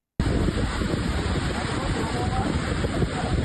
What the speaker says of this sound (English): here's a clip of me struggling in the rough Maracas waves that day